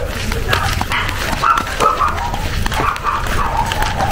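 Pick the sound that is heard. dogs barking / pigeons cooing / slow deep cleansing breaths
dogs barking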